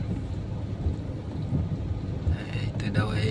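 Dense, steady downpour from a low-pressure storm roars without a break, heavy rain pounding surfaces close by amid flooding water.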